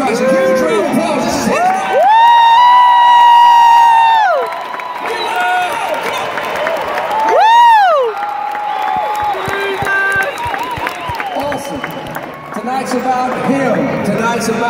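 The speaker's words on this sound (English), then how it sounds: "let's start this night off right by giving our Lord and Savior Jesus Christ a huge round of applause" A large arena crowd at the Winter Jam concert tour in Sunrise, Florida cheers and applauds, with long high shouts and whoops rising over clapping in surging waves that dip and swell again.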